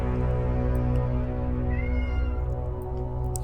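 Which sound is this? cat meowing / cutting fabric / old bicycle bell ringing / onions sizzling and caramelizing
cat meowing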